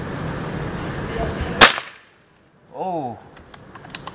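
A Pulsar PCP bullpup air rifle fires a single sharp crack at a roof tile against outdoor background noise, followed by silence and then a brief bird chirp.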